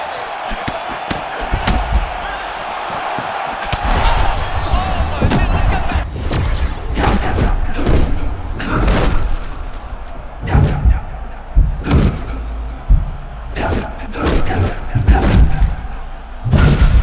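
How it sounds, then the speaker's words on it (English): Heavy punches land in an EA Sports UFC mixed martial arts video game bout, a steady run of loud thuds and slams over crowd noise, with commentators talking throughout. "These two guys are trading huge shots."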